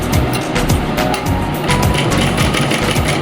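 A sewing machine stitches a seam on trousers, a loud, close, continuous rapid mechanical whir and clatter with slight speed changes, no voices over it.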